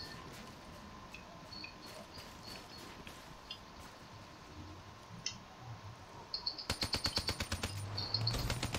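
Rapid burst of automatic gunfire in a video game arrives near the end as a loud, evenly spaced rattle of shots, after a stretch of quiet ambient game noise.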